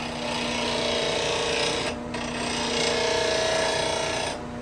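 Steel skew chisel rasping back and forth on a wet sharpening stone, a close, steady gritty scrape in two long strokes with a brief pause between, no talking.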